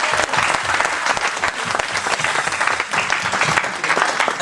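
Dense, loud applause fills a church evening vigil in Paris as the congregation acclaims the music group, continuous clapping from a large crowd with no pauses.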